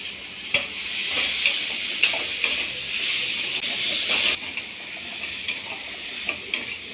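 Tomatoes with salt sizzle and fry in a pan for tomato chutney, a steady crackling hiss with a few sharp stirring clicks as the mixture is moved around, no voices.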